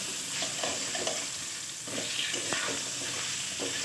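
Potato pieces frying in a pan with a little turmeric for a pointed gourd curry, a close, steady sizzle broken by repeated stirring scrapes and light clinks.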